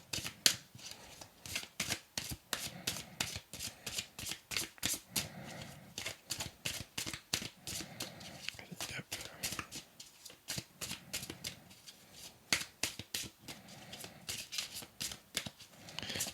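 Oracle cards being shuffled by hand, a long run of crisp rapid riffling flicks in an uneven rhythm, close and fairly quiet with no talking.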